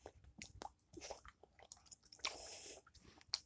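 Someone chewing a gumball up close, with soft wet smacking, squishing bites and a few crunchy moments over several seconds, quiet and intimate with no talk.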